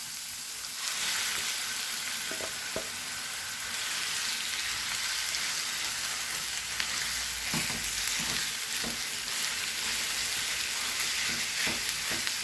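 Minced meat keema frying in spice paste in a pan, a loud steady sizzle with occasional stirring scrapes and taps, close up.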